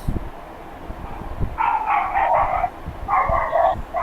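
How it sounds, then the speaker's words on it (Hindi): Dogs bark in the distance, sounding as two clustered bursts of repeated barks over a quiet room hum. "किसके यहाँ हैं ये कुत्ते भौंक रहे हैं?"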